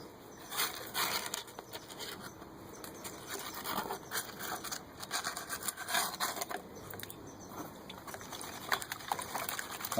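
Gold concentrates from Alaska are worked through a screen to classify them below about 1/8 inch, giving a steady gritty scraping and rubbing of gravel on mesh, with irregular louder shaking bursts throughout, close and with no talk.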